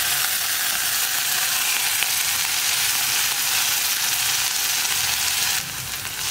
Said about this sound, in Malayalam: ഇനി അരപ്പ് ഒന്ന് ചേർത്ത് നന്നായിട്ടൊന്ന് വഴറ്റിയെടുക്കുക